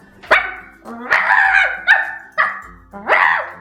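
A person's voice imitates a dog barking during a Korean-versus-American animal impression contest, giving five loud, close, uneven barks and yips with short gaps between them, heard alone without other talk.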